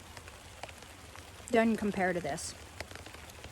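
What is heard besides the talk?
rain falling outdoors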